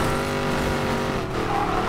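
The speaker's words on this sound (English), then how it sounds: "You know when you step on the gas and the engine growls to life for a second?" Car engine in Need for Speed Payback growling hard under throttle, a loud continuous roar with shifting pitch and a hint of tire squeal, close and unbroken.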